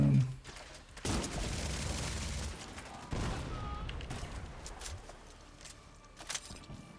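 Repeated explosions from a perfect explosive delivery run in a video game, a dense, continuous barrage of booms and gunfire-like bursts with sharp new blasts at intervals, loud and sustained throughout.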